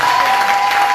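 Congregation clapping during a French-language Sunday church service, a brief, dense burst of loud applause filling the room.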